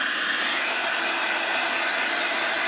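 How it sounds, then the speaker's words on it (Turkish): Hair dryer blowing while hair is dried at home, a steady loud airy whoosh of motor and fan noise running without a break, with no talk over it. "Şimdi hemen saçlarımı kurutuyorum ve evden çıkıyoruz."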